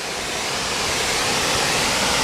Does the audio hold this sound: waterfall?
yes